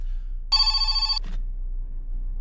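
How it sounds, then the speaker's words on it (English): A telephone rings once in a short bright electronic burst, loud and close, then stops abruptly, leaving a quiet low hum with no talking. "Oh, I forgot to turn my phone off."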